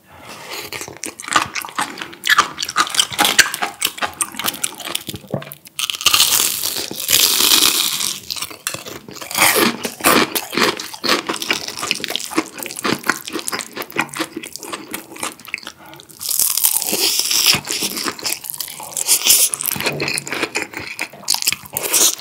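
Crunchy bites and chewing of fried injeolmi rice cake, close and loud, with crisp crackling bursts repeating throughout and no talking over it.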